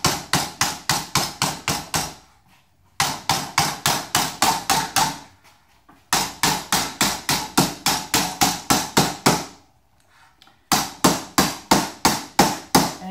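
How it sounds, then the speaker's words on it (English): Dead blow hammer striking aluminum aircraft fin ribs to form flutes, delivered in four bursts of rapid, evenly paced blows, each burst about eight to ten hits, separated by brief silent pauses, close and crisp with no talking. "Go back to the dead blow hammer."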